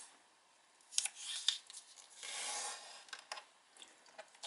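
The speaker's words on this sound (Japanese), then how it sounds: "折り筋をつけ広げます。" Origami paper is folded and creased up close, giving soft crisp rustles, papery scrapes and a few sharp crinkles in quiet surroundings, with no voices.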